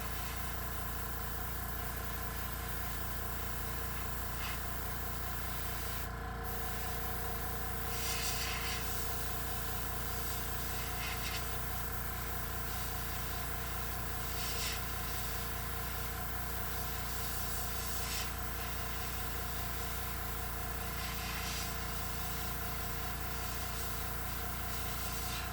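An airbrush sprays Copic marker ink onto a tumbler, a constant soft hiss of air riding over the low hum of a running compressor, with brief brighter bursts of spray now and then.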